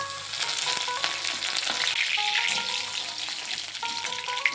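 Garlic, ginger and curry leaves fry in hot oil, giving a loud, steady, close sizzle with some light stirring through the whole stretch and no voices.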